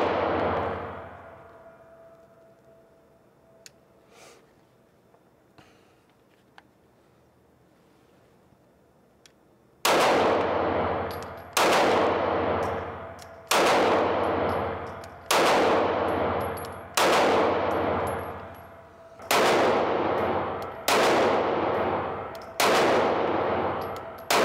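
A Freedom Seed Thrower gun fires about ten loud, sharp shots in a steady quick rhythm, each ringing briefly before the next, after a quiet stretch of faint background noise.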